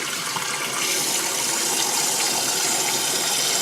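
Water gushes steadily from a newly installed kitchen sink faucet fitted with a new drain and aerator, a continuous close hiss with no talk.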